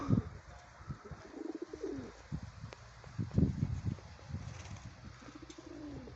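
Low, soft homing pigeon coos repeat in short phrases over a faint outdoor background, moderately close, with occasional rustling.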